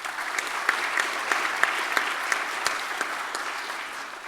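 Audience applause in a hall at a hospital pharmacists' conference, an even, moderately loud roll of many hands clapping with a few sharper individual claps standing out, steady throughout.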